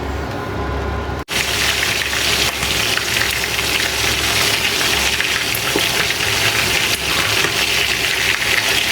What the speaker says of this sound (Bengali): তেল গরম হইলে এই যে মুরগির মাংস দিয়ে দেবো